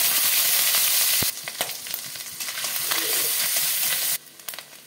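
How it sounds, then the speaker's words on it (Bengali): Coconut pieces frying in hot white oil in a wok, a loud steady sizzle that drops suddenly partway, swells again, then cuts low near the end, with a few sharp clatters. "তেলটা গরম হয়ে গেছে, নারকেলগুলোকে ভেজে তুলে নেব।"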